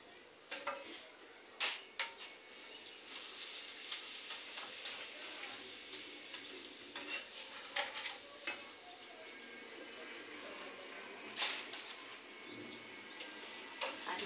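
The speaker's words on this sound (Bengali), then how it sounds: "আপনাদের এই পাঁপড় ভাজা যদি ভালো লেগে থাকে" Papad frying in hot oil in a pan at home gives a continuous close sizzle with scattered crackles and a few sharp clinks from stirring, with faint birds in the background.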